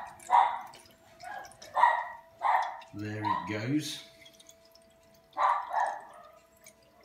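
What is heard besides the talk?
dog barking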